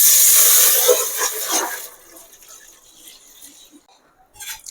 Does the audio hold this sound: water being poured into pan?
yes